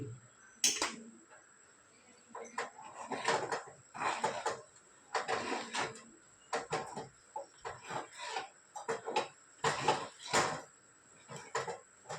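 Cashews go into thick halwa in a pan and get stirred, making soft repeated scraping and clacking strokes in an irregular rhythm, faint and close.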